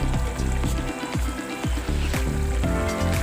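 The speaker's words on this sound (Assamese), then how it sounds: "ইয়াত পানীৰ উতল আহি আছে।" A pot of chicken curry with a cup of added water comes to a boil, giving a loud, close bubbling and sizzling with repeated surging bursts.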